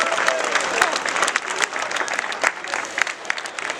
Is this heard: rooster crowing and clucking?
no